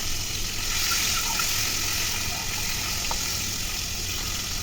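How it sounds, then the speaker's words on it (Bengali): Boiled eggs fry in oil in a frying pan, giving a steady, even hiss of sizzling that holds without a break and stays close throughout. "প্রথমে এখানে একটা ফ্রাই প্যানে তেল দিয়ে ভিতরে দিয়ে দিচ্ছে আগে থেকে সিদ্ধ করে রাখা ডিম"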